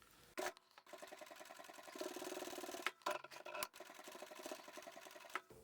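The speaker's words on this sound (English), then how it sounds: "Now we can go to the machine and sew all the way around both of these rectangles." A sewing machine runs steadily, stitching around two fabric rectangles for a zippered bag's lining, its needle chatter rhythmic and close, with brief pauses and restarts.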